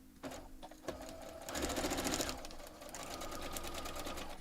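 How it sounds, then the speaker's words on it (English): A sewing machine stitches a seam along fabric for a foundation paper pieced quilt block, running steadily and close, with short starts and a faster burst in the middle and no talking. "So let's sew this all the way down."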